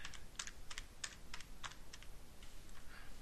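Quick, crisp key taps on a calculator while numbers are entered, about a dozen presses in an irregular rhythm, close and alone with no talking.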